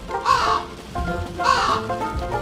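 A crow caws loudly twice, harsh nasal calls about a second apart, close by and alone.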